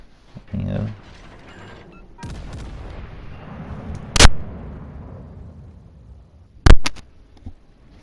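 Warship guns from HMS Marlborough boom in a naval video game, two sharp, loud blasts several seconds apart over a low rumbling background with a quieter thud early on.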